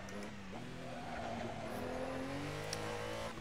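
A Ferrari race car in a racing video game on the Nürburgring GP circuit revs steadily upward through a gear, a quiet, continuous engine whine heard alone.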